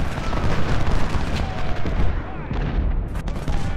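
Dense, continuous battlefield gunfire and artillery rumble from the Civil War strategy game Ultimate General: Civil War, loud and unbroken, rolling volleys layered over deep booms.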